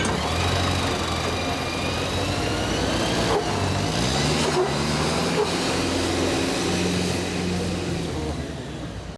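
A GAZ Sadko off-road armed vehicle runs with a steady mid-pitched engine drone and whine, shifting pitch partway through, moderately loud and alone without talk.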